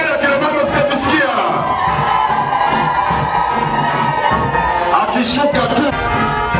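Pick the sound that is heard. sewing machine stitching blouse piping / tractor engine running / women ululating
women ululating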